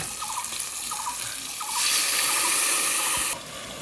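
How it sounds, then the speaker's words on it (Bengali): Rinse water from washing a stone grinding slab pours steadily into a cooking pot for a gourd and fish curry, a close, continuous splashing gush that swells midway and then eases. "পাটা ধোয়া পানিটা দিয়ে দিলাম।"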